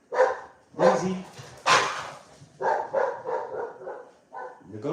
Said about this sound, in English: The Ghost Town crew is barking outside.